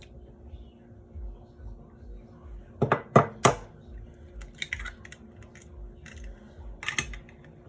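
Three eggs are whisked into a set-aside casserole sauce, giving a few quick clinks of utensil against bowl. They come in short bursts at moderate volume over a quiet kitchen background.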